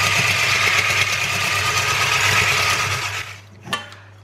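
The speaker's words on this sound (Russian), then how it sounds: "Короче, белки есть, взбиваем. Щепотка соли и поехали." A hand-held electric mixer whips egg whites with a pinch of salt in a bowl, giving a steady, loud motor whir that cuts off near the end, followed by a brief clink.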